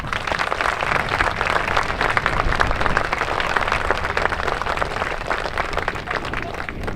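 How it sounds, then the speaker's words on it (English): Sustained audience applause for musicians at a Celtic festival opening ceremony, a dense steady wash of many hands clapping at even loudness for about seven seconds with no speech over it. "Let's give all of our musicians one more round of applause"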